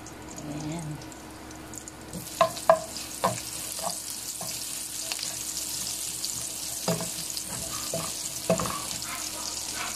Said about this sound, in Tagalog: pag mainit na po, ilagay po ang bawang